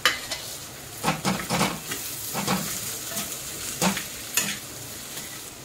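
Boiled potato filling being stirred into browned fried onion in a pan for stuffed capsicum: intermittent scraping strokes and soft clinks of a spoon over a faint, steady sizzle, with no voices.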